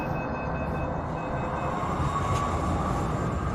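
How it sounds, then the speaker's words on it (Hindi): A metro train starting to move, a steady dense rumble with a faint rising whine over it, continuous and fairly loud throughout with no voices. "इस बीच मेट्रो चल दी"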